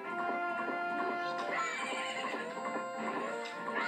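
A horse whinnies in the Majora's Mask video game during a race, a loud, shrill neigh that rises and falls over bright, tonal in-game sound.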